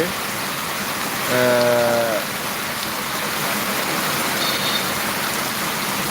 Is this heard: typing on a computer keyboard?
no